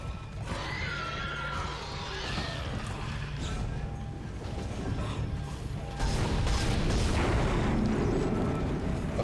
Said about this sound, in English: that explosion must have done some damage to him